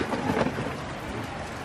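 A thunderstorm with heavy rain on a farm, heard as dense, steady rushing downpour with a low rumbling undertone throughout a short stretch, with no voices.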